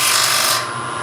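Abrasive sanding on a wooden platter spinning on a lathe gives a loud, steady hissing rasp that eases slightly partway through, continuous and close without talk.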